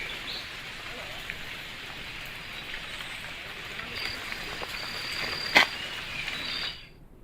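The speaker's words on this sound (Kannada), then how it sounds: "ಚಿಕ್ಕಮಗಳೂರಲ್ಲಿ ಭಾರಿ ಮಳೆ ಆಗ್ತಾ ಇದ್ದು" Steady heavy rain in Chikkamagaluru falls in a dense, even hiss with a few louder drops and faint insect chirping, ending abruptly in silence.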